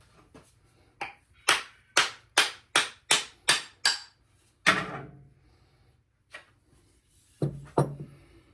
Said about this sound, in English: I hit it a couple more times. This is walnut